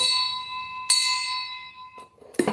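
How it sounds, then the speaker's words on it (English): A bell rings with a clear sustained metallic tone, struck twice and decaying between strikes, loud and close with no talking. "let's go on and ding the bell"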